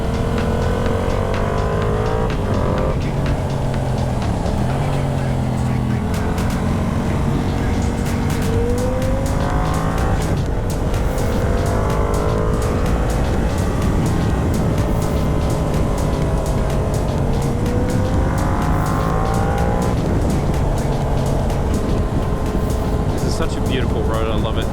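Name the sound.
Yamaha R7 motorcycle riding with engine braking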